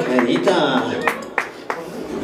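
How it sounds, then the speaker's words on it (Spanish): A family gathered at a birthday party claps along to a mariachi band, a few sharp, evenly spaced claps under a singing or speaking voice. "Todos los que estamos reunidos, acompañándome con las palmas."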